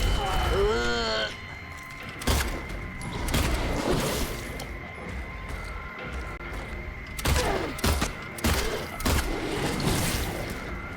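Gunfire in a video game, scattered sharp shots popping at irregular intervals, some clustered, beneath someone talking through most of it.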